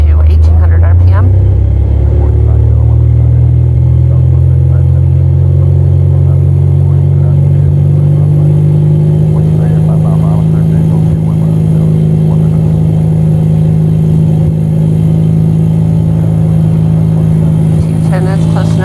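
A simulated Cessna 172 engine in a home-built flight training device runs up to 1800 RPM during a pre-takeoff check, producing a loud, steady low propeller-engine drone that holds evenly throughout with no talk over it.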